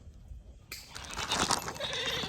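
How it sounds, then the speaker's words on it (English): Goats being taken for a walk down to a river bleat in a short burst of bright, overlapping cries that start abruptly after a quiet moment and carry on, fairly close and moderately loud. "we're taking the goats for a walk down to the river"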